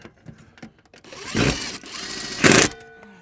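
A power driver sets screws into a mount for an off-grid solar panel, giving two sustained whirring bursts of about a second each, close and loud, with light taps and handling noise between them.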